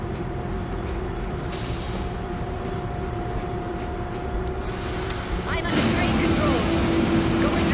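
A train in World War Z rumbles and hisses into motion, a steady mechanical drone that grows louder and brighter partway through, with a sustained tonal whine.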